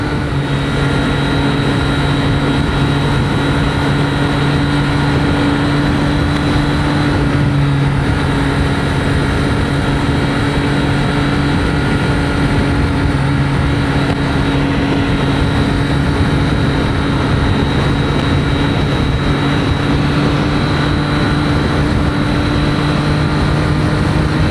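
Motorcycle cruising along a highway in fourth gear at around 52 mph, a loud steady engine drone with constant engine hum and rushing wind noise, close and unbroken throughout.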